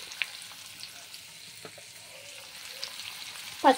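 Curry with salt and turmeric gets stirred in a frying pan, soft sizzling under scattered spoon scrapes and taps, ending in a sharper clatter, close and quiet with no voices.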